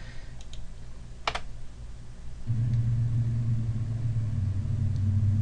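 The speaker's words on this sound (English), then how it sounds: "I'm filming from a car, and you can hear the sounds of the car." Car engine rumble from footage filmed inside a moving car, a low steady drone that swells in loudly partway through, preceded by a few quiet keyboard clicks.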